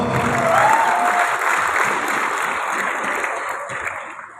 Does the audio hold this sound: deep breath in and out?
no